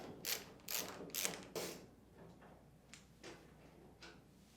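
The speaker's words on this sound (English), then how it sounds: "Using a Phillips head screwdriver, remove these two screws on the back of the washer." Phillips screwdriver backing out screws from the rear panel of an LG washer, giving a few close, quiet bursts of metallic scraping and ratcheting that grow softer toward the end.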